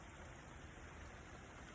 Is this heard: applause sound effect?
no